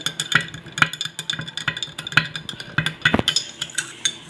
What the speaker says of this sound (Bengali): এখন আমি এটা ঘুরে নিচ্ছি ভালোভাবে